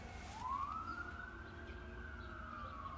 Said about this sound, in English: It sounds like a lot of sirens.